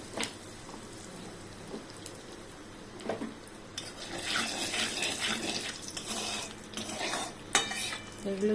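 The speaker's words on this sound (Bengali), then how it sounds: "মেথিটা ভাজা হতে হতে আমি একটু হিং দিলাম।" Fenugreek seeds and asafoetida fry in a pan while a utensil stirs and scrapes, a quiet start building into louder sizzling with metallic clinks toward the end.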